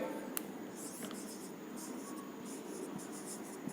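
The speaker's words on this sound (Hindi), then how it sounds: "हम लिख रहे हैं यहां पे" Chalk or marker writing on a classroom board, a soft scratchy rasp of strokes and taps over quiet room tone, close and faint, with no talk.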